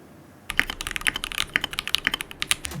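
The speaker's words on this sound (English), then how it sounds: "Does this keyboard sound good?" Fast typing on a mechanical keyboard with tactile switches, crisp clacky keystrokes in quick irregular bursts, close up, starting after a brief quiet moment.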